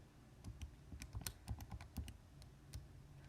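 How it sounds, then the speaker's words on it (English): Numbers being typed into a calculator: a quick, irregular run of light key clicks, close but faint, over a soft steady background hiss. "let's type that all into our calculators."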